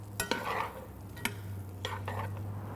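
Brussels sprouts and onions are tossed in bacon grease in a skillet, a low sizzle under a handful of sharp utensil scrapes and clanks spaced through the moment, close by.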